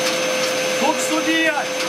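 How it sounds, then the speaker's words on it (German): A Bissell wet-dry workshop vacuum runs steadily with a constant whine and broadband rush, close and loud, while faint voice-like tones drift over the motor noise. "habe ich mir einen neuen Werkstattsauger gekauft"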